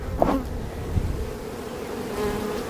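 Honeybees buzz steadily around an open hive under a honey super check, a dense close drone with individual bees passing near, and no talking.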